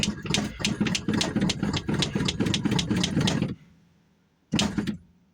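An old vehicle engine, one cylinder low on compression, cranks in a steady rhythmic churn for several seconds, then stops; after a short near-silent pause a brief burst of cranking returns. Loud and close, with no talk.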